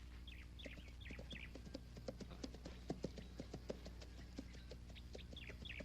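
Horse hooves clip-clop in a Filipino action film scene, a steady run of sharp, evenly spaced knocks at moderate distance, with bird chirps scattered over a faint background.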